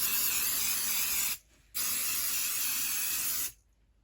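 Two steady hissing bursts from an aerosol spray can, a short one of about a second and a longer one of nearly two seconds, close and fairly loud.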